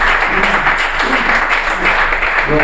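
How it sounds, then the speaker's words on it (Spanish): Congregation applauding the Lord during a church service, a steady dense wash of clapping throughout at moderate loudness with a faint murmur of voices beneath. "y que den un aplauso al Señor."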